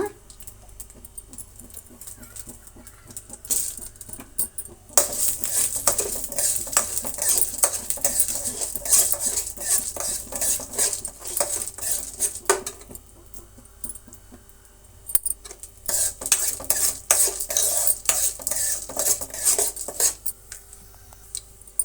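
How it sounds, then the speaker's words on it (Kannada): Chana dal and urad dal frying in a little oil in a pan, stirred with a spoon: bursts of crackling sizzle and rapid metallic scraping in two long stretches separated by quieter pauses, close by. "ಕಡಲೆಬೇಳೆ ಮತ್ತು ಉದ್ದಿನಬೇಳೆ ಈ ಎರಡನ್ನು ನಾವು ಫ್ರೈ ಮಾಡ್ಕೊಳ್ಳೋಣ"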